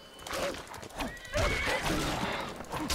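A horse in the video game Skyrim whinnies loudly twice in quick succession, close and clear, with a faint voice murmuring underneath.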